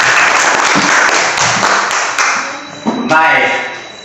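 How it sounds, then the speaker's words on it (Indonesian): Young children in a classroom clap together in a bright, dense burst, with a teacher's voice and small voices mixed in over the clapping near the end. "Tepuk tangan dulu."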